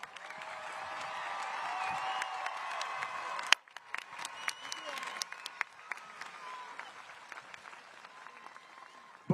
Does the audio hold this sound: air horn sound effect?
no